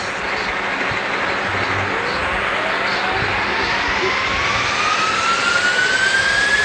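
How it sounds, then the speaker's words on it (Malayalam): Loud, steady jet-engine roar with a rising whine sweeping upward, sustained throughout like a powerful thruster firing: a jet pack in the video game Indian Bike Driving. "ഇത് സൂപ്പർ ജെറ്റ് പാക്കാണ്"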